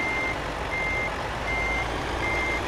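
A long truck in Euro Truck Simulator 2 sounds its reversing alarm, four steady evenly spaced beeps over a constant low engine rumble, clear and close.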